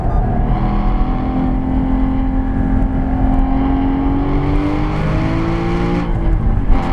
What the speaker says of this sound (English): Doing the exhaust audio again outside the car